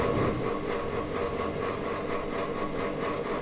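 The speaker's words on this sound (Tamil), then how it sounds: "இது ஒரு ஹாப் வேகமாக சுற்றுது கியர் பிளாங்க்கு இது இருக்குது" A gear hobbing machine runs with its hob spinning fast and cutting a gear blank from bottom to top, giving a continuous, even mechanical drone with a faint rhythmic churn.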